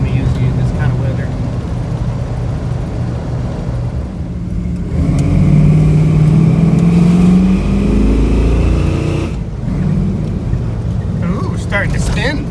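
A GMC Jimmy drives on a slippery gravel-covered winter road, its engine droning steadily and rising in pitch as the wheels spin, with people talking inside the cab throughout.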